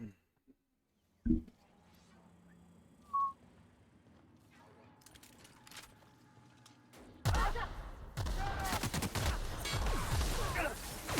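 Gunfire in the video game The Outer Worlds: a couple of isolated sharp shots over a quiet backdrop, then a loud, dense, sustained volley of fire that continues to the end.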